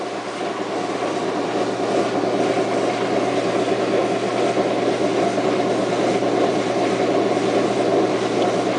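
A washing machine runs with its drum not spinning, giving a loud, steady mechanical drone with a constant rumble and hiss that holds unchanged throughout, with no talking.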